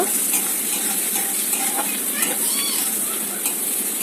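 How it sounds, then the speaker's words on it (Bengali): Chopped onion frying and being stirred in a pan for pasta, a steady close sizzle with light scraping stir strokes throughout, no talking. "পেঁয়াজটা একটুখানি হালকা নাড়াচাড়া দিয়ে ভেজে নেব"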